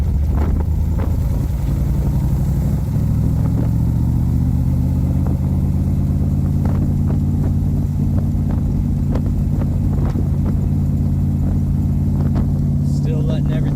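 A 1965 Shelby Cobra 427R Roush engine hums close by, its pitch climbing and dropping as gears change, with sharp clicks and knocks scattered throughout.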